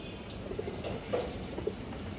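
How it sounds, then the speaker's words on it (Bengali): A green-necked female pigeon gives a few soft, low coos, faint and close, spaced apart against quiet background noise. "একটা হারামি সবুজ গলা মাদি কবুতর"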